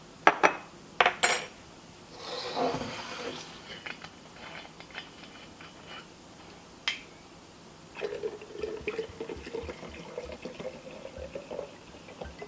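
A small spoon stirs stevia and water into a key lime smoothie, giving a few sharp clinks against the container early on, then softer scraping and swishing with quiet liquid sounds, close and without talk.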